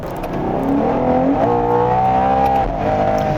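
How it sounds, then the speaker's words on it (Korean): A Ferrari Purosangue's V12 engine revs hard and close toward 8000 rpm, its pitch climbing steadily, dipping briefly, then surging again. "8000rpm까지 소리는 확실히 우르스보다 좋고요"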